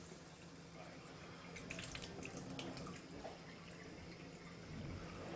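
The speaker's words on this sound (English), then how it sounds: "First, I'm going to get tap water, which is coming from this source right here." Tap water running from a faucet, a faint, steady splashing stream with a few brighter trickles and drips, heard quietly at close range in a quiet room.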